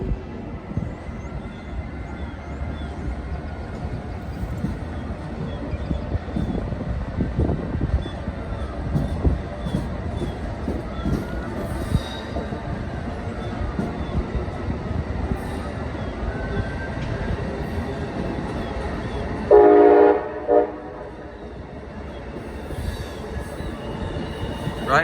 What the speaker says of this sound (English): It's a race, and the Amtrak is leaving first.